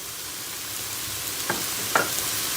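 Peppers are tipped into a pan of well-browned caramelized onions, giving a steady hiss of frying with two sharp bursts of fresh sizzle as the peppers hit the hot oil.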